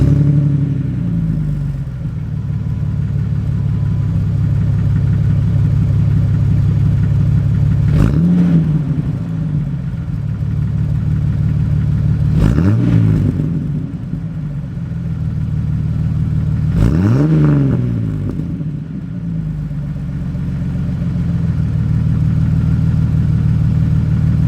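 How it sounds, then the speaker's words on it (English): A Jeep TJ with the 4.0 engine and a Flowmaster exhaust idles in a deep, steady rumble, then rises in three distinct revs spaced a few seconds apart before settling back to idle. "I'll start it up and I'll do a few revs"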